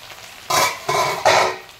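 Potatoes frying in a pan on a home stove, heard as three short bursts of sizzling and stirring over a quiet background, with no voices.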